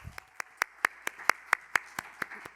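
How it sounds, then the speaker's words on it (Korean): Audience members at a youth speech contest clap in a slow, regular rhythm, about a dozen distinct crisp claps spaced evenly, fairly quiet and with no talk. "박수로 들어보겠습니다"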